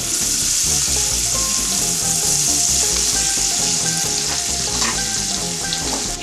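Food sizzles loudly and continuously in a frying pan as it is stirred, a dense steady hiss with music playing underneath.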